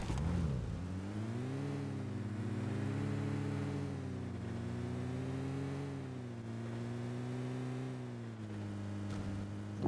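A car engine in the mobile battle royale game PUBG Mobile drones steadily throughout, rising and falling slightly in pitch as it revs while driving, with no talking.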